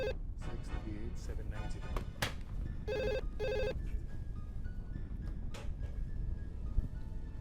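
A telephone ringing in a tense crime-drama scene, with repeated bursts of electronic ring tones up close over a low background hum, and speech in between.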